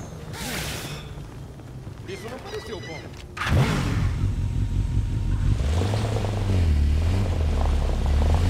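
Drones in the video game Gotham Knights give off a steady mechanical whirring hum that swells louder partway through, with game ambience and a voice speaking over it.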